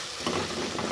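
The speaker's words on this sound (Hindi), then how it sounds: "अच्छे से मिक्स इस तरीके से" Tomatoes being stirred into aloo gobi frying in a pan, a steady soft sizzle with scraping stir strokes close by, no talk.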